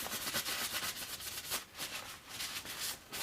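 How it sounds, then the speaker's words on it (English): Hand sanding of a baritone guitar body with 600 grit wet and dry paper, a soft, close rasping rub in rapid back-and-forth strokes that swell and fade, with no voices. "600 grit wet and dry paper. Make the scratches a bit smaller."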